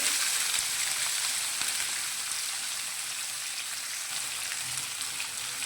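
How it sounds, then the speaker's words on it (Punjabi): Chopped onions fry in a pan with roasted cumin seeds for shahi paneer, a steady close crackling sizzle that fades slightly as it settles. "ਇਹ ਜਿਹੜਾ ਜੀਰਾ ਭੁੰਨਿਆ ਗਿਆ ਇਹਦੇ ਵਿੱਚ ਆਪਾਂ ਹੁਣ ਪਿਆਜ਼ ਪਾ ਦਿੰਦੇ"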